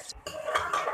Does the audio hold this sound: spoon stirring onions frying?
yes